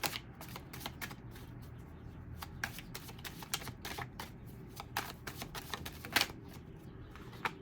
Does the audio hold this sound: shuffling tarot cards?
yes